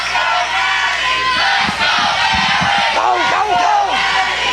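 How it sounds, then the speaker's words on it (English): A wrestling crowd at a CWF Mid-Atlantic show cheering and yelling loudly and continuously, with chants rising and falling through the dense roar. "Man, this crowd is split already."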